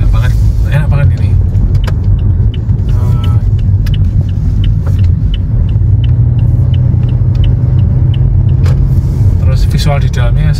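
A second-generation Toyota Yaris drives along with a steady engine and road rumble filling the cabin, punctuated by small clicks and rattles, while a person talks over it.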